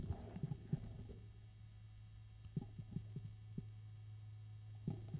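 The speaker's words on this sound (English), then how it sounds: "So on the one side, all I hear is the pump." Water pump of a Lian Li Galahad 360mm ARGB AIO cooler running up close: a steady low hum with soft, irregular thumps and gurgling knocks pulsing through it.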